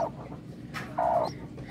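Newly hatched bantam chicks peep in short, high chirps, with a brief bright cheep early and a longer one near the end, close by and fairly clear over a soft background, with no talking.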